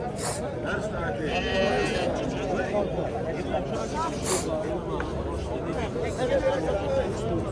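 Sheep bleating repeatedly amid a busy crowd at a livestock market in Angren, Uzbekistan, with people talking and haggling over prices close by over constant market chatter.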